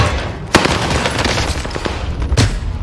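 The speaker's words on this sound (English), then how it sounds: "double barrel shotgun!" Double-barrel shotgun fire in Warzone, two sharp loud blasts a couple of seconds apart over a busy bed of gunfire and game noise, no talk.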